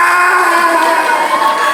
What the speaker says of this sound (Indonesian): mana tepuk tangannya Dida?